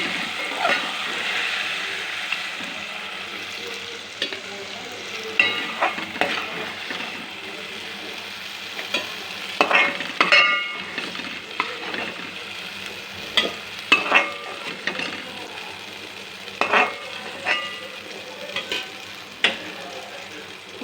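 Tomato, onion and vegetables frying in oil in a pan for masala brinjal curry, a steady low sizzle broken by intermittent spatula scrapes and clinks, close and moderately loud.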